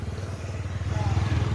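A motorcycle idles near the ticket booth of a bus terminal with a fast, pulsing engine chug close by, growing slightly louder over its short run, with faint clatter.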